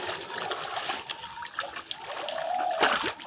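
Fish thrash and splash in a pond as they are netted, irregular close bursts of splattering water and dribbles over a quiet background.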